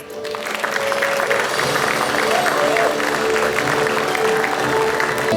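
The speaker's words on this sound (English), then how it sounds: "Give a round of applause to Rian De Lange." Audience applause for an award winner at a wildlife convention, a steady crowd clapping that swells in and holds at an even level throughout, with a faint voice or tone running beneath it.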